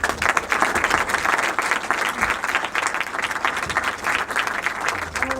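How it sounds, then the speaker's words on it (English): An audience claps for a speaker about to give a talk, a lively, sustained round of applause with a rippling, uneven texture and faint crowd murmur underneath. "Applause for Suzanne Rolfe."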